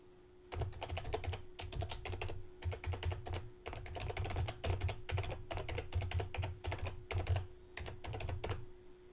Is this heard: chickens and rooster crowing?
no